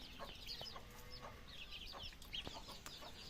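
Several chickens clucking softly and repeatedly, scattered short calls at a moderate distance, no talking.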